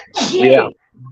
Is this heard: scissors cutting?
no